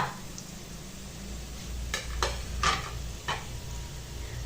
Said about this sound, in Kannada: ಇದನ್ನ ಚೆನ್ನಾಗಿ ಈರುಳ್ಳಿನ ಫ್ರೈ ಮಾಡೋಣ